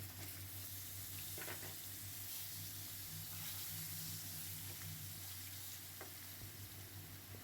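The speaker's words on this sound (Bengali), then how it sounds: "এবার আমি ওই তেলের মধ্যে আলুটা ভেজে নেব" Potatoes frying in oil in a pan, a faint steady sizzle with occasional soft scrapes under a low continuous hum, no one speaking.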